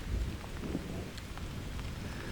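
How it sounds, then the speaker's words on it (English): Rain beginning to patter around a bushcraft tarp camp outdoors, a steady soft hiss of falling drops with a low rumble beneath, fairly quiet and continuous. "It's starting to rain again."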